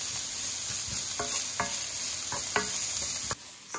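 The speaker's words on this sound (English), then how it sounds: "And now we're going to add fresh chopped parsley. And mix everything." Sautéed vegetables with fresh chopped parsley sizzle softly in a pot while a utensil stirs them in a few distinct scraping strokes, quiet and close, with no talking.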